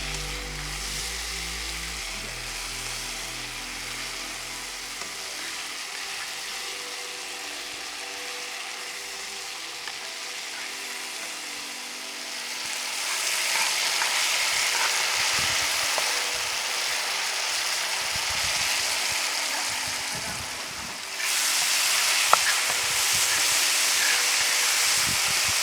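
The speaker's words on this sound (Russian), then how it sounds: "Обжариваем помидоры" Tomatoes frying in a pan on a camp stove, a steady hissing sizzle that thickens and grows louder partway through, with a brighter, harsher burst near the end; no one talks.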